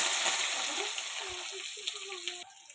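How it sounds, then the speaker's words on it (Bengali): Onions drop into hot oil in a wok and sizzle, giving a bright, steady frying hiss that carries on under someone talking. "কড়াইতে তেল দিয়ে দিয়েছি, পেঁয়াজ দিয়ে দেবো"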